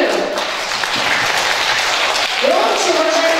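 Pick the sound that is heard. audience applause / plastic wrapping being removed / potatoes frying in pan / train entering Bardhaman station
audience applause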